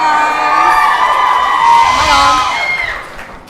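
A loud live audience at a podcast show in New York City cheering and whooping, with high excited shouts rising and then fading out toward the end.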